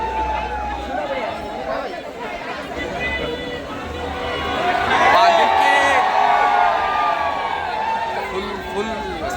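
A large crowd at a hero event in Pune chatters in a dense, continuous babble, swelling louder midway, with a nearby voice talking over the din.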